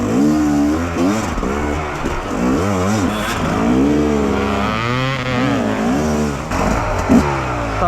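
A Fantic XE 300 dirt bike engine fires up close by and revs hard, its pitch climbing and falling in repeated bursts of throttle, loud and continuous throughout with no talking.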